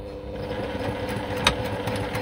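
A sewing machine stitches a blouse, running with a steady, even motor hum and a busy mechanical chatter throughout, plus one brief louder click partway through.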